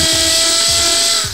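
A drill-headed robot from a Skibidi Toilet animation grinds steadily, a loud continuous whirring drone with a few rhythmic low thumps underneath and no talking.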